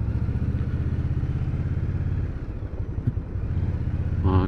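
An Indian Scout Bobber motorcycle rides through a Seoul city street on a weekend, giving a loud, steady engine rumble with slight throttle changes, heard close up with wind.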